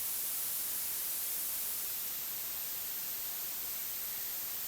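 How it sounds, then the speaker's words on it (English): Steady broadband white noise from a synthesizer, used for sound design, hisses evenly and fairly quietly throughout with no other sounds. "It might even be good to dial it in using things like this, the white noise,"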